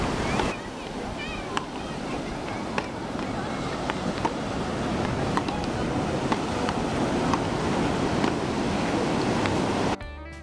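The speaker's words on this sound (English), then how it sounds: "The waves are ideal for beginners" Ocean surf rolling onto Las Canteras beach in Las Palmas, Gran Canaria, a steady broadband wash of breaking waves with wind buffeting the microphone, continuous and fairly loud for the whole stretch with no talking.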